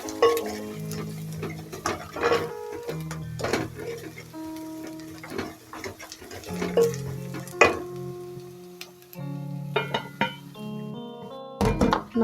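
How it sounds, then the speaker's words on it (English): Potatoes are stirred in a sizzling frying pan, with steady frying crackle and scraping stir strokes under louder background music and tonal chimes. "And then give it a good stir."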